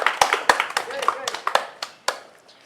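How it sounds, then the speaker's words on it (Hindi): An audience claps for the MLA at a 15 August comedy show: scattered, uneven hand claps close by, mixed with talking voices throughout. "विधायक के लिए जोरदार ताली।"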